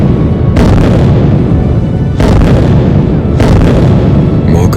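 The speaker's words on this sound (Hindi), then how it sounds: "तोपों की गर्जना से आसमान गूंज उठा।" Cannon fire as the Sikh army attacks the fort at Multan: three heavy, booming blasts, each with a long rumbling tail, rise over a dense, continuous roar of background noise.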